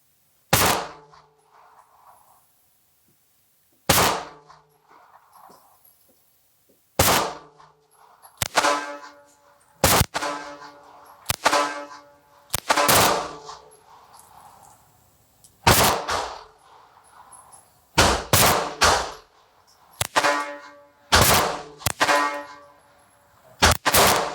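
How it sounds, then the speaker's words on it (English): An H&R Model 299 .22lr snub nose revolver fires a series of sharp, loud shots, first spaced apart and then in quicker clusters, each crack followed by a short ringing tail. "Here we go, left-hand target. 4 shots right-handed, 4 shots left-handed."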